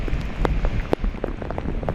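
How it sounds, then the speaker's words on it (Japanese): Heavy typhoon rain pours over Tokyo's Odaiba waterfront in gusty wind, a steady dense wash with sharp drop impacts and occasional louder bursts, close and continuous with no voices. "午前7時前の東京お台場ですが、時折強い風が吹いて傘が飛ばされそうになっている方がいます。"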